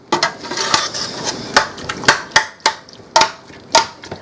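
Sharp knife strikes on a cutting board while chopping ingredients for chicken chili, about a dozen irregular clacks close up with no talking.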